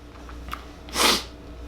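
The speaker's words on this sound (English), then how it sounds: "Got a cough again." A single short, breathy cough bursts out close by against a quiet background.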